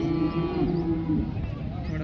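A calf gives one long, low moo, loud and close, with no talking, at the rainy Modnimb calf market.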